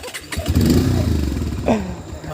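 A Bajaj Pulsar 150 motorcycle engine fires up close by and settles into a steady, throbbing run.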